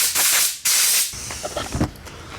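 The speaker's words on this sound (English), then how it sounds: "I'm gonna grab some brake clean and then a air nozzle and clean this up really good" Brake cleaner spray and a compressed-air nozzle clean a part on a new van, with two loud, close hissing bursts followed by softer intermittent spraying and blowing.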